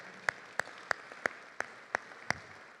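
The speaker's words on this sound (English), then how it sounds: "Let's give him a round of applause" Applause at an awards ceremony comes through as a series of about seven evenly spaced, crisp claps, moderately close, over a soft room murmur.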